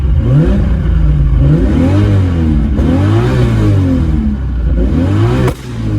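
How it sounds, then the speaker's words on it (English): A Nissan Skyline GTR R34 fitted with a 2JZ engine, revved hard up close in repeated rising and falling bursts over a loud, rumbling idle, with a sharp crack near the end. "I'm going to give it a bit of a rev"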